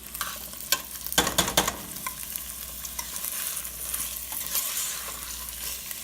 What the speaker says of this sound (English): Then you mix it in, mix it in, mix it in.